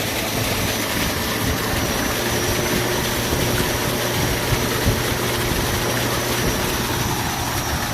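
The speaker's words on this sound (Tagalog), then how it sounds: "ayan po yung pump natin. 3 horsepower." A 3 horsepower solar-powered mobile pump runs on a farm, giving a loud, steady mechanical drone with a constant hum and broadband rush that holds unchanged throughout.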